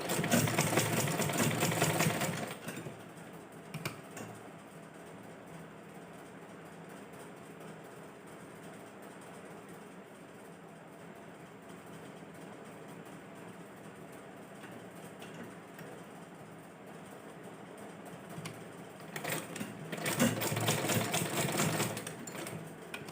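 A sewing machine stitches fabric pleats for a women's garment, running in loud, steady bursts at the start and end with a softer mechanical hum between them, and no talking.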